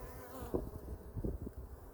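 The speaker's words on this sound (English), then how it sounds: "they're out here pollinating all the flowers of the desert" Honey bees buzzing around a sanctuary hive in the desert, a close, steady insect drone with a few louder passes near the microphone.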